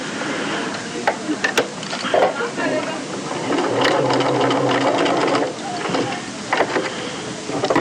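A domestic sewing machine stitches in the ditch through a bagged-out bodice facing, whirring in short runs and one longer burst, with someone talking over it.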